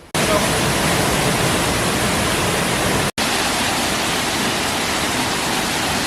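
A river in the Dominican Republic rushes downhill toward natural pools near a beach, making a loud, dense, continuous roar of water. The roar fills the whole stretch and is broken only by one very brief dropout midway.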